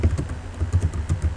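Quick keystrokes on a computer keyboard as a username is typed, a steady run of light, close clicks with no talking.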